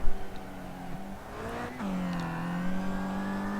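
A BTCC touring race car engine in iRacing at Okayama qualifying drones steadily, with a brief lift and downshift before climbing back to a sustained, moderately loud onboard engine note.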